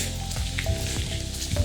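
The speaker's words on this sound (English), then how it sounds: "you can already hear the sound of the falls" Continuous broadband rush of a series of waterfalls at Diana's Baths in New Hampshire's White Mountains, a steady hiss heard from a short distance with no voices.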